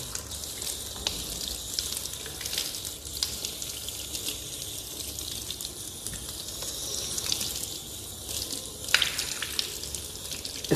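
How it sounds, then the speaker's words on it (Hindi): Water runs from a tap as both hands are washed for wudu ablution, a steady splashing hiss with small shifts as the hands move under the stream. "तो सबसे पहले आपको दोनों हाथों को गट्टों तक धोना है, पहले दाएँ हाथ फिर बाएँ हाथ"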